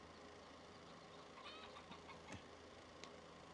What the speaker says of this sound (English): Chicken going crazy.